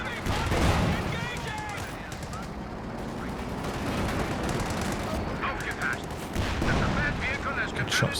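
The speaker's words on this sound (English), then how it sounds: "Good shots there from the Sherman." Sherman tank gunfire in a Company of Heroes 2 match, a dense stream of booming shots and battle noise that runs throughout under someone commentating over the action.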